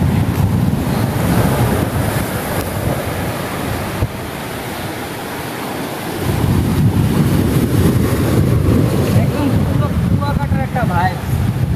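Surf rolls onto the evening sea beach at Gabtoli, Barguna, a steady close roar of breaking waves with heavy wind buffeting the microphone, easing briefly midway before surging back.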